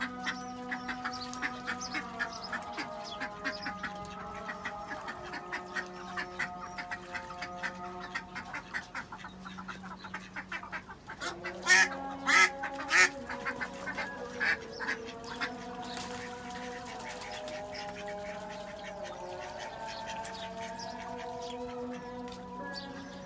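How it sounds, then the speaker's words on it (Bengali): Ducks quack repeatedly in a small flock as they bathe in freshly filled water, with overlapping nasal calls, brief splashing, and louder bursts midway. "এই তো হাঁসগুলো এখন নেমে পড়ছে গোসল করার জন্য।"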